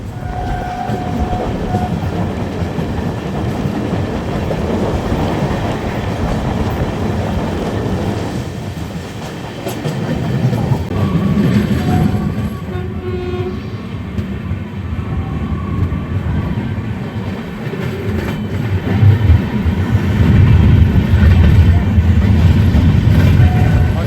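13212 Intercity Express rolling along the rails toward Saraigarh Junction in Bihar, a steady loud rumble with clatter from the carriages that swells louder near the end, with faint voices under it.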